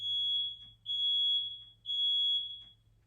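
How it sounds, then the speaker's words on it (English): A smoke alarm sounds three long, piercing beeps in a steady pattern, each separated by a short gap, loud and close in an otherwise quiet room with a low hum beneath. "the fire alarm was just going off"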